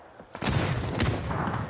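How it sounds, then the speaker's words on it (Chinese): Grenades exploding in a PUBG battle royale esports match, with two heavy blasts landing about half a second apart, close and loud, followed by rumbling gunfire-like crackle. "双方都在互丢手雷"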